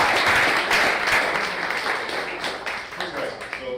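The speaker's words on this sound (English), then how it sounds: "can I get a huge round of applause for all the COs?" Applause at a scout troop's Eagle Court of Honor, a loud burst of crowd clapping that starts full and gradually thins out over a few seconds, with faint voices mixed in.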